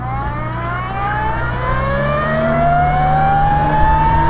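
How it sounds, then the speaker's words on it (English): An Energica Ribelle electric motorcycle accelerates hard, its motor whine rising steadily in pitch over a steady low road and wind roar, loud and close throughout. "so I'm out on the Energica Ribelle electric bike"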